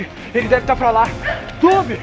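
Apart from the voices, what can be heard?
dog barking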